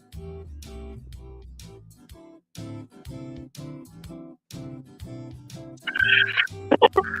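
Cockatoos call from the background in a loose run of short, harsh squawks and gobbling cries, steady through most of the stretch and then louder and shriller near the end.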